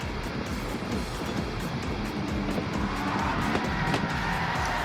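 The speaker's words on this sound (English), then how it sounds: "Another spin out, that could have been, oh, so costly." A race car in Gran Turismo 7 spins out, its tires skidding and squealing over a loud, continuous engine roar that swells slightly toward the end, with no talk.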